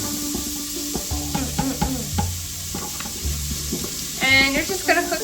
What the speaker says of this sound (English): you're just going to cook these onions until they're translucent